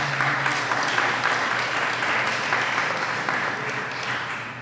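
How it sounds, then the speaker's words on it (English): Applause fills the hall at a National Parents Day awards ceremony, a steady crowd of clapping hands that holds evenly and eases off slightly toward the end, with a low murmur beneath. "give them a nice round of applause"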